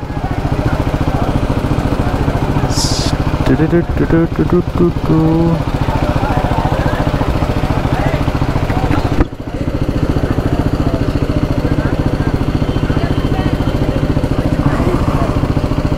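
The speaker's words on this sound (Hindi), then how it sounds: "अब बाइक मैंने अभी तक ऑन ही छोड़ी हुई है," A motorcycle engine idles steadily for a long stretch, its cooling fan whirring along with it, close and loud, while people talk over the drone and one voice speaks briefly.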